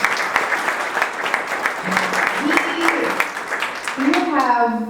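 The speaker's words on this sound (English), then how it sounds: "let's give him a round of applause" An audience applauding a guest of honour at a speaking event, dense continuous clapping close by, with voices cheering and talking over it throughout.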